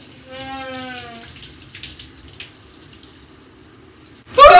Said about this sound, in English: I need a shower.